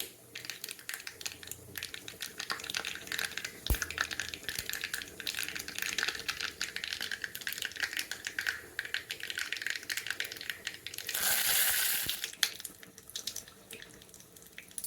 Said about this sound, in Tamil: கடுகு நல்லா பொரியட்டு.